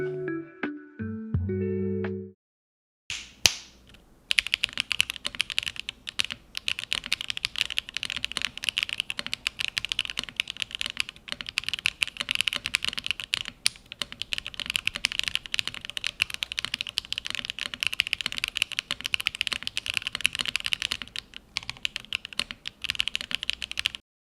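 Typing on a silver Neo 80 custom mechanical keyboard in its various mounting setups, including gasket mount: rapid, continuous key clacks close up after a brief tonal intro, with no talk.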